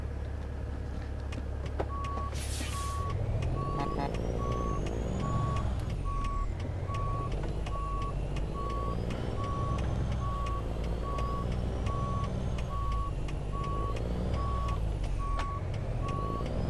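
Kenworth W900 long sleeper reversing in American Truck Simulator, its backup alarm beeping steadily in a regular on-off rhythm over a low idling diesel engine rumble.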